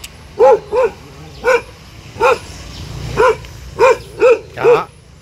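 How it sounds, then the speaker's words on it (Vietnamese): A large dog barks at a rural family home in the Vietnamese countryside, eight loud, close barks spaced irregularly, some in quick pairs, against quiet background noise. "Wow, con chó bự quá."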